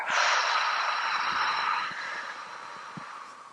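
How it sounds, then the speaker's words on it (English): A long, slow exhaling breath during a stretch class, an airy hiss that starts full and gradually fades over several seconds, close and alone. "Breathe out for the count of 4."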